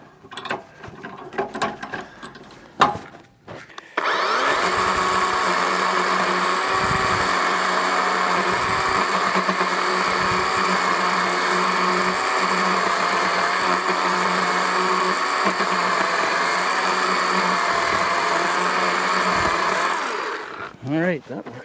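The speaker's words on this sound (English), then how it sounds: "back the saw back out here and make those modifications to this log" A chainsaw cuts steadily into a log wedged on bunks, a loud continuous buzzing drone lasting around fifteen seconds with brief dips in load, preceded by clanking handling noises and ending as the engine drops off.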